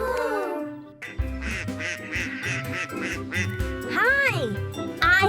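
A cartoon duck character in a claymation farm story for kids quacks in a bright voice, with a voice imitating the quacks amid lively music and voiced character speech.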